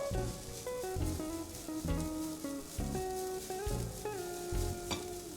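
Grated coconut warms in a pan with a steady close sizzle, stirred now and then, while music plays loudly over it.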